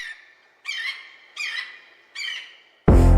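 Three short bursts of bright bird chirping, each about a third of a second, spaced evenly within a song, heard alone over a quiet background before a loud broadband hit at the end.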